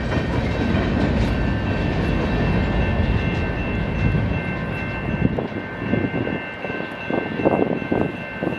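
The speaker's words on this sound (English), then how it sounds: "Now that's a short train." A short local freight train, L521, rolls eastbound past at Battle Creek, Michigan, a loud steady rumble with rail noise and a faint tonal whine, then rhythmic clickety-clack of wheels over joints as the cars go by.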